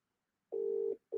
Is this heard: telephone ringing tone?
yes